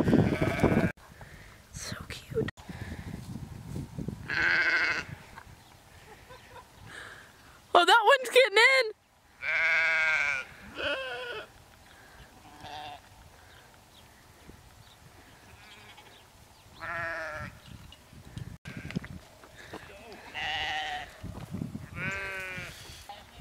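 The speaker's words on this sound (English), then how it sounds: "So now we're about to go try to help get these sheep back in there." Sheep, including a lamb, bleat repeatedly on a Texas farm during a freak ice storm. The bleats are loud, near and scattered, and people talk and murmur between and under them.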